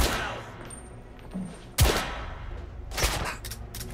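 Heavy gunshots in The Order: 1886, two or three loud, close blasts with rumbling tails over a low background hum.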